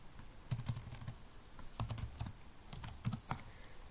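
Quiet, close typing on a computer keyboard, bursts of soft key clicks in short irregular clusters while entering a form label in Word.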